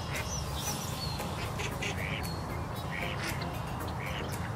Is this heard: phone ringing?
no